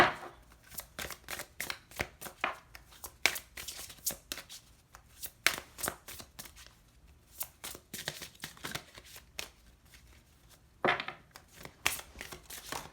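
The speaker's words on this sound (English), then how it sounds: "Let me pull a couple more cards here." Tarot cards are shuffled and pulled during a reading, giving close, papery riffles and snapping flicks in irregular bursts, with short pauses between them and no speech.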